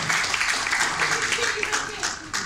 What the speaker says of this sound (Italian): dai, fategli l'applauso.